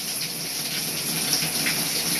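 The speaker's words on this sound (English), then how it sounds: "Alright, now it's freezing cold water." Steady rush of cold shower water spraying continuously, close and fairly loud with no talking.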